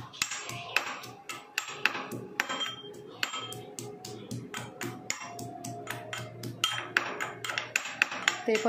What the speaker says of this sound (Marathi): सर्वात आधी लसूण चेचून घेतलाय.